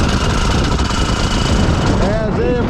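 A Vespa scooter engine runs steadily at a close, loud, mid-pitched putter, with a brief voice heard over it near the end.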